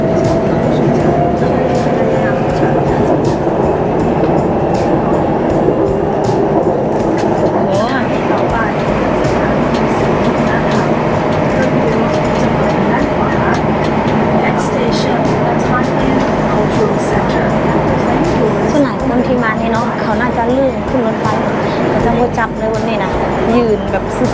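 Steady rumble of an underground MRT subway train in motion, with rhythmic rail clatter and voices chatting nearby throughout.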